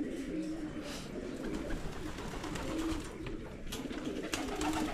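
Pigeons cooing steadily at a breeding farm, soft repeated low coos overlapping at close range with a busy background of other birds and faint ambient noise.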